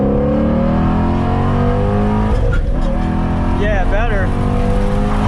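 A Chevrolet Camaro engine revs hard and loud through quick gear changes, with a steady roar and pitch that swoops up and down, while voices briefly talk over it inside the car.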